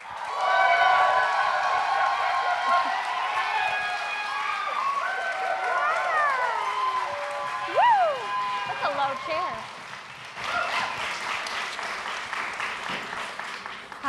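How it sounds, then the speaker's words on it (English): Sustained applause from a candidate forum audience in Spokane, steady clapping with some cheering and voices rising over it, continuing throughout. "keep the applause coming for District 1 challenger, candidate Sarah D"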